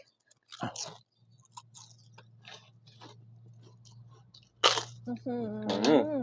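Crispy grilled Thai rice crackers are chewed close up with scattered crunchy bites under a steady background hum, and someone speaks toward the end.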